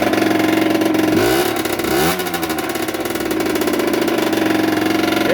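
Motorcycle engine just started and still holding high revs, running slightly rich: a loud continuous buzzing drone that dips briefly in pitch and then climbs back to a steady high idle.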